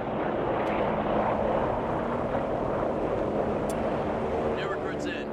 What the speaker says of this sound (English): C-47s are ready to deploy reinforcements.